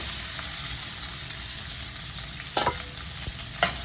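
Three chopped onions sautéing in a pan for a malai chicken dish, a constant loud frying hiss with a few scraping stirs near the end.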